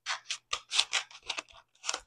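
Scissors snip through a sheet of transfer tape in a quick series of about ten short, crisp cuts, close and moderately quiet, with small gaps between strokes.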